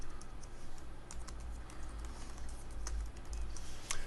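Rapid typing of a password on a computer keyboard, a dense patter of light key clicks with a few sharper strikes, close and steady for a few seconds with no talking.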